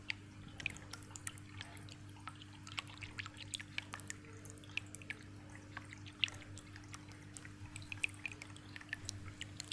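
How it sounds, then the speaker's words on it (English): Water falls and trickles in a small decorative Ganpati fountain, giving soft, irregular drips and splashes over a faint steady hum, quiet and close. "even the water, when it falls, there is a nice sound that comes, which really is amazing"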